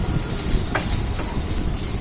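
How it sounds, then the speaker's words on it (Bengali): Sliced onions sizzle in hot oil with ginger-garlic paste, a steady close-up frying hiss with a couple of soft scrapes as the pan is stirred. "তো এখন নেড়ে চেড়ে নিচ্ছি, ভালো করে ভেজে নিচ্ছি।"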